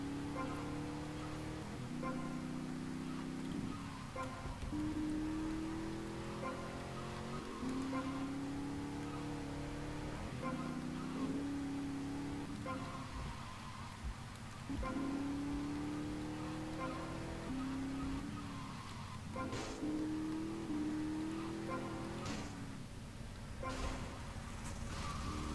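An engine drones steadily through a driving run in GTA: Vice City, its pitch rising and falling with repeated gear shifts and revs, and occasional thumps and skids cutting in over the continuous motor.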